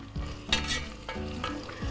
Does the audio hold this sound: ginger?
yes